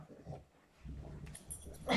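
A short, soft dog whimper and whine, close by and faint, with a brief higher yelp at the end.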